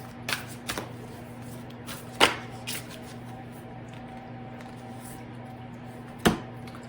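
Oracle cards from The Universe Has Your Back deck are shuffled by hand, giving a few soft, scattered riffling flicks and taps against a quiet room hum, with two sharper snaps standing out.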